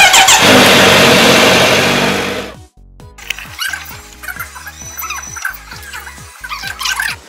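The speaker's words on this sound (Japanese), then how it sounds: "エンジンかけさせていただきたいと思います" A Kawasaki Z900RS motorcycle engine roars loudly up close, cuts out for a moment, then settles into a throbbing, uneven idle.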